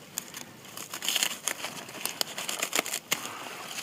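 Crisp crunching and snapping as romaine lettuce is cut out by hand in a garden, a close, irregular burst of crinkly cuts and rustles lasting a few seconds, no talking.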